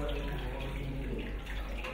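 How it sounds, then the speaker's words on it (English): Water running steadily, as when wetting a clean cloth with boiled and cooled water to wipe a newborn's eyes, a continuous close splashing wash with no pauses. "She wets a clean cloth with water that has been boiled and cooled."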